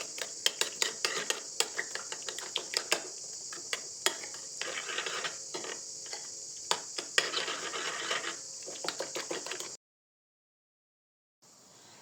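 Beef filling being stirred together with oil, mayonnaise and tomato paste, a steady wet scraping and rubbing of a spoon against a bowl with sharp clicks, fairly close, then a brief pause near the end.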